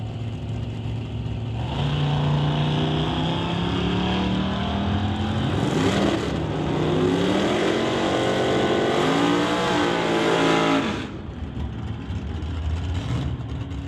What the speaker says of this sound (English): Got a Hyundai over here in the TCS lane. Races against Carson Barlow's 1970 C10.